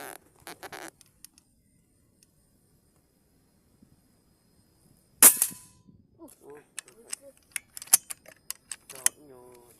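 An air gun fires a single sharp, loud crack while hunting squirrels outdoors, standing out after a quiet stretch, followed by scattered clicks and handling sounds as people talk.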